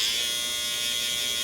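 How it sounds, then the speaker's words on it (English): Steady, loud electric hair trimmer buzz cutting afro-textured hair at a barber, a continuous high-pitched hum held close without pause. "You want to start with the trimmer first because it is the closest cutting machine that you have."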